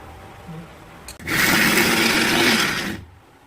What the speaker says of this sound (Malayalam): ഇനി നമുക്കിത് ഒരു മിക്സിയിലിട്ട് അടിച്ചെടുക്കണം.